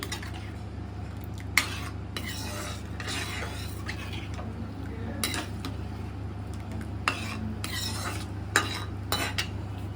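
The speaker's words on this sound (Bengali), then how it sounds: "ফ্রেশ ক্রিমটা দিয়েও ভালোভাবে নাড়িয়ে নিচ্ছি" A spoon stirs fresh cream into butter garlic prawns in a pan, repeated scraping strokes and clinks over a low steady hum, with a faint simmer underneath.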